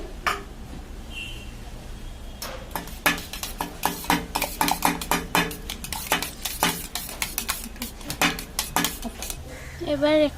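Metal spoon or fork whisking egg with chilli powder and black pepper powder in a bowl for an omelette, quick irregular clinks and scrapes against the sides, close and fairly loud, steady beating after a few opening taps.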